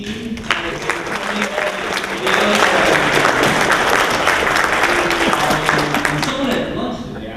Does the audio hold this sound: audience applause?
yes